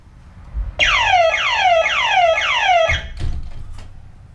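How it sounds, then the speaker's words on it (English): An NX-6 home security alarm going off loudly and close, a repeating falling electronic whoop sounding four times over about two seconds before cutting out. "my alarm will go off instantly."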